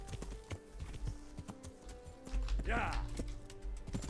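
Hooves clip-clop from horses in the medieval game Kingdom Come: Deliverance, scattered irregular steps alongside game noise, with a sweeping rise partway through and talk heard over part of it.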